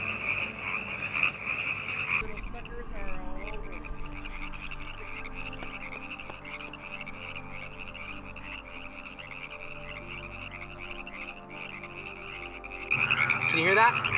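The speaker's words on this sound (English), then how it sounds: "That like that long almost siren sound. That is the wood house's toad." A Woodhouse's toad in a desert wetland gives a long, continuous siren-like trill, steady and fairly close, with other faint croaks and rustles around it.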